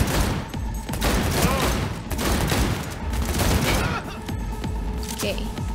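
Cyberpunk 2077 gunfight with a rapid burst of repeated gunshots and heavy cracks, loud and close throughout, layered with other game noise.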